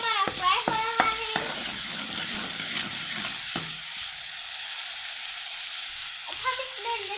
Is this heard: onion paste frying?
yes